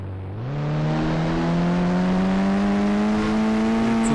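A Rolls-Royce car engine in the Indian Bike 3D video game revs up and holds a steady, loud, rising synthetic drone with clear harmonic tones, no talk over it.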